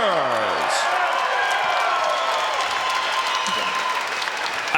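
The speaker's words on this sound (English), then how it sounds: "let's have a big round of applause for these 2 heavyweight warriors" An arena crowd at a bare-knuckle heavyweight fight applauds and cheers, a loud sustained roar of clapping with whoops and shouted voices layered on top, holding steady throughout.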